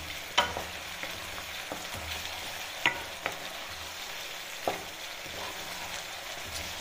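Ground spice paste frying in a pan for Bangladeshi duck curry, a constant close sizzle broken by a few sharp scrapes and knocks of the stirring spoon, with no talking.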